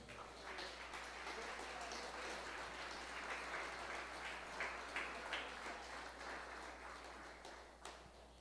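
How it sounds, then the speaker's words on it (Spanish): A church congregation claps together in a sustained burst of applause that sounds faint and somewhat distant, tapering off near the end. "Bríndele un aplauso al Señor."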